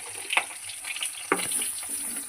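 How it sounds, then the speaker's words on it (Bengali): Turmeric-coated khoira fish fries in a pan with a steady, close hiss of hot oil and a few sharper sputters; no voices. "মাছটা ভাজা হচ্ছে"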